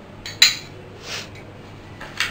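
A steel plate is handled in a kitchen while making cham cham sweets, giving a sharp metallic clink near the start, a softer scrape in the middle and another light clink at the end, with no talking.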